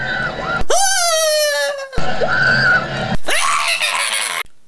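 A woman screams in Jurassic Park III: loud, shrill, sustained cries in several bursts separated by short breaks, close and piercing.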